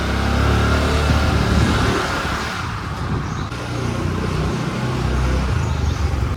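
Steady engine and tyre rumble from a car on the road as a trip from Kamothe toward Mhasala in Raigad district begins, a loud, continuous drone with no voices.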